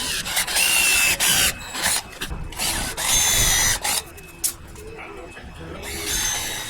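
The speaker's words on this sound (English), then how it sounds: "I'm going to use a 7/16 bit and countersink it just enough to be able to fit that head in there." A drill with a 7/16-inch bit countersinking holes in a board for garage organization: loud, close whining bursts that start and stop several times with short pauses between runs.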